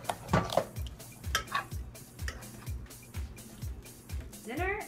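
A knife and fork work through a roast chicken on a plate, giving a string of rhythmic scraping and clinking strokes of cutlery on a dish, close up, with a voice talking over the top.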